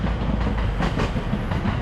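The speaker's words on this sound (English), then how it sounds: "Ooh, there's a nice train." A train passes by in Japan with rhythmic wheel clatter over rail joints, a loud steady rumble close to the listener, steady through the whole stretch.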